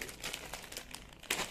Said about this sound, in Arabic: هنفتح كيس الاساتك، هو ده كل اللي غرمته بخمسة جنيه